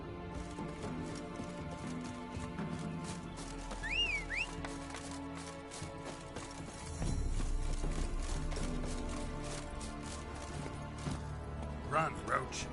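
Roach, the horse in The Witcher 3, gallops with steady clip-clop hoofbeats up close, a brief whinny or whistle partway through and a louder surge near the middle, with a voice speaking over it.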